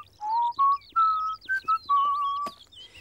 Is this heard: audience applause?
no